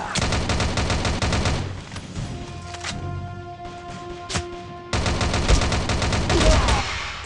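Rapid video-game gunfire from Rival Fire, dense bursts of automatic shots opening and closing the stretch with a quieter pause of scattered single shots and electronic tones between, loud and close.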